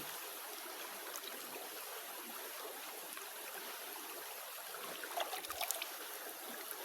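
A steady, gentle rush of a flowing mountain river, faint and continuous, with a few brief splashes near the end.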